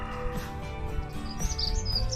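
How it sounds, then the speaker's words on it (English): Birds chirp in a few quick, high tweets over a steady low background hum, fairly faint and distant, with no voices. "I can hear the birds, but I can't see."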